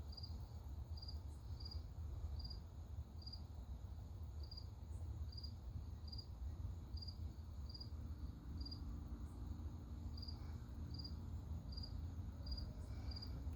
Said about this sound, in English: Couple of crickets chirping in the background.